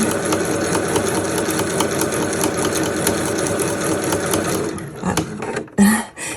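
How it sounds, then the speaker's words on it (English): A sewing machine runs steadily, stitching a hem on felt with the needle kept down, then slows and stops near the end with a few faint clicks. "I absolutely adore sewing with felt"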